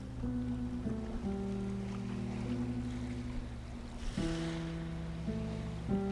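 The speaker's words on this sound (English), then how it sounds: "So this is the sound of a kelp farm." A quiet, steady underwater ambience with low sustained tones and a soft wash, briefly swelling midway; calm and continuous with no voices.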